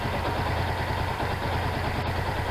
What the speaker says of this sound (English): now the motorcycle is in neutral